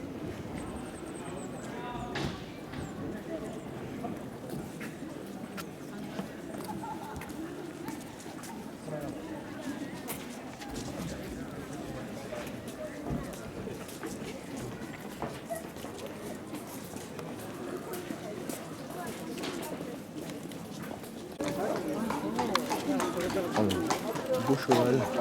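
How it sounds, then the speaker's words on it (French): Horse hooves clip-clopping at a shrine in Nikko, Japan, as a faint, steady rhythm of hoofbeats under outdoor crowd murmur, with a louder stretch of noise near the end. "Beau cheval."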